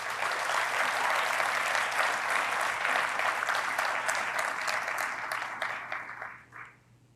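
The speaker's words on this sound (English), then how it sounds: "Please give them a round of applause." Sustained applause from an audience at a university research center grand opening, dense and steady for several seconds before thinning out and fading near the end.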